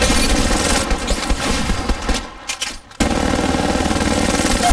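Automatic gunfire in Apex Legends Mobile rattles almost continuously, loud and close, breaks off briefly in a short lull, then resumes as dense sustained bursts.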